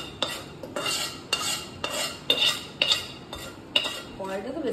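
Aluminium karahi handled and stirred, with a run of sharp metallic scrapes and clanks of a utensil against the pot in an uneven rhythm, close and clear without talk.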